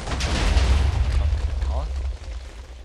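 A jutsu attack called Iron Sand Gathering Assault unleashed in a Minecraft Naruto roleplay game, a loud rumbling blast with heavy low-end roar that sustains for about two seconds before tapering off.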